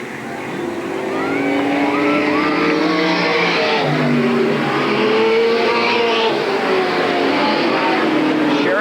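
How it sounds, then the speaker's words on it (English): Race cars accelerating around Eugene Speedway during an evening race, loud engine roars with passing whines and rising pitch sweeps continuing throughout. "Here comes Jerry York now moving into fourth place."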